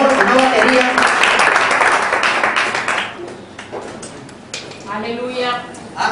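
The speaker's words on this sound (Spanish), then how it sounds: "Den un fuerte aplauso al Señor." A church congregation clapping loudly during a service, dense applause mixed with voices that tapers off, followed by someone speaking.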